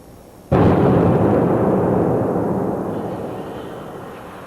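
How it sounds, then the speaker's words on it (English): An explosion goes off inside an electrical enclosure whose flanged joint has been deliberately damaged, one sudden heavy boom followed by a long rumbling decay that fades slowly over several seconds. "demonstrate what can happen if there is an explosion with a damaged flame path"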